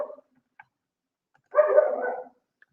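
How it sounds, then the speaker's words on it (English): A dog barks in a short burst of yips and barks, close and fairly loud, after a few faint isolated sounds, with no talking over it. "So if you hear him barking, it's because he's saying hi to his friends outside."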